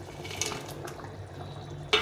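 Pieces of pre-fried fish going into bubbling curry broth in a pan, soft liquid bubbling and quiet stirring clatter, ending in a sharper splash or clink of the fish entering.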